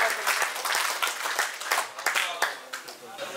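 Audience applause at a Kyrgyz community cup event, steady clapping from a crowd with uneven individual claps standing out, close and moderately loud, with voices underneath.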